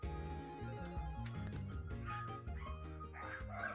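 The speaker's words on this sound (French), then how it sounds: "Les chiens sont fous dehors." Several dogs bark and yip outdoors with a few whimpers mixed in. The sound comes as a rapid, overlapping volley, heard faintly from a distance, with no voices present.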